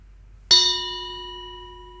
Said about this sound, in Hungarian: Egyszer megkongattak egy harangot,